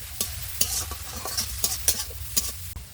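Onions and green chilies with vegetables frying in hot oil for a cauliflower dish, a steady sizzle broken by sharp spatula scrapes and clinks against the pan at close range, with no talking.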